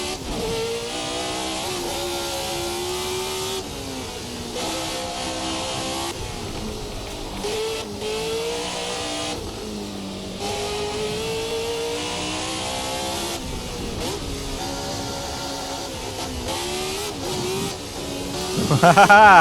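A Formula 1970 V8 race car in a racing sim revs hard and steadily, the engine note climbing and dropping through gear changes with a brief tire squeal. Someone talks over the continuous loud drone.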